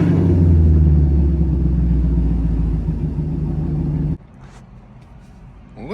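A Camaro's engine runs with a loud, deep rumble for about four seconds, then cuts off abruptly into quiet background sounds.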